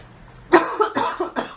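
A short burst of several coughs, close and fairly loud, in quick uneven succession.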